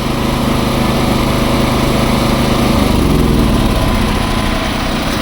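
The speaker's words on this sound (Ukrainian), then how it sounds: "як працює великий генератор на газу" A large 7 kW Champion dual-fuel generator running on gas (LPG) drones steadily at a loud, constant level, close by and with no speech.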